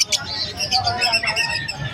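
Yellow Face Opaline budgie at a pet market, giving short, bright chirps and squawks close by, mixed with a steady wash of market chatter and nearby voices throughout.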